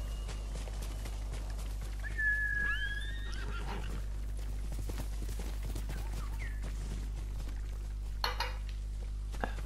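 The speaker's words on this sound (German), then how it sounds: "Pferd." Horse in the Ghost of Tsushima video game gives a drawn-out whinny with some clinking and hoof sounds, over a steady low hum.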